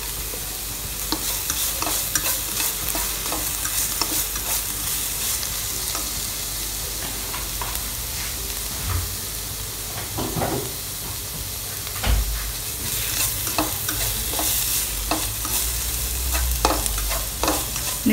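A noodle filling with mixed herbs is stirred in a hot pan. The sizzle is steady and close, broken by repeated scraping and clattering strokes of the spoon against the pan. No one speaks.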